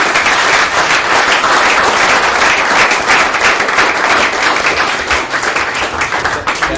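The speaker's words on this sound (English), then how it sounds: "can we give these 3 gents a huge round of applause?" Loud, dense applause from a conference audience for three panelists at a tech start-up investment event, a continuous wash of many hands clapping close and full throughout, easing slightly near the end.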